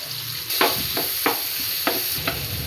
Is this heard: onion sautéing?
yes